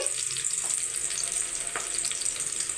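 Onions fry in a pan for chicken biryani, giving a steady, close sizzle with a few brief stirring scrapes and no talk.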